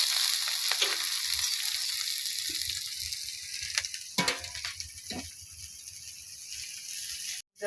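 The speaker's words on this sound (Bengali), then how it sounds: "লঙ্কা কুচি দিলাম পেঁয়াজ কুচি দিলাম" Chopped green chili and onion hit hot oil in a pan, a bright, dense sizzle that stays strong throughout, broken by a few close clinks and scrapes of stirring near the middle; nobody talks.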